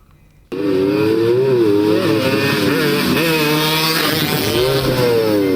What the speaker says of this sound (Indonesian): Sejumlah remaja memacu motor dengan kecepatan tinggi di kompleks perkantoran Pemkab Boyolali